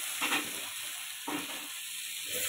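Steady sizzling hiss of fish frying in a wok, with a couple of stirring scrapes breaking through the constant crackle.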